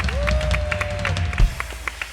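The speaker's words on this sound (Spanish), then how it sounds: "Dale un aplauso porque es un arma poderosa." A church congregation claps together during a service. The clapping is fairly loud and steady, with a sustained keyboard-like tone held over it for about a second.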